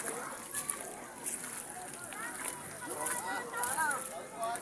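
River water splashes and sloshes steadily beside a newly built cottage, a fairly close, continuous wash with people talking over it.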